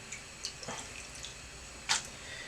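Soaked gelatin leaves are squeezed out by hand in a kitchen, and a few faint, soft drips and splashes of water fall at irregular moments in a quiet room.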